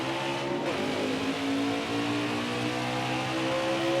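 Race car engines in the NASCAR Heat 4 video game scream in a dense, continuous roar, several cars droning together at high revs with shifting pitch as the field runs a restart.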